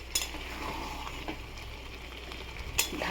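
Dried lotiya fish stirred gently in a frying pan, with a steady soft sizzle and occasional sharp scrapes and clinks of a utensil against the pan.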